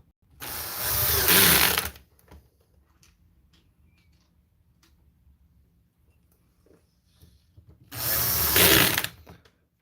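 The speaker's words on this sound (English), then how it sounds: "And put in the two back screws." Two separate bursts of a power screwdriver drive the back screws into an Xbox Series X console. Each whirring burst lasts about a second and a half, separated by quiet handling clicks, close and without talk.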